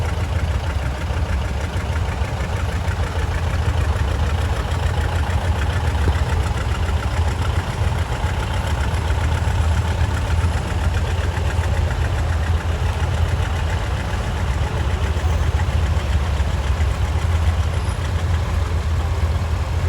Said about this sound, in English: Next is a 1957 John Deere 420